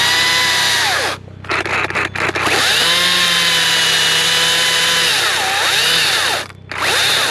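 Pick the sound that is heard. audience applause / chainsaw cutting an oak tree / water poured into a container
chainsaw cutting an oak tree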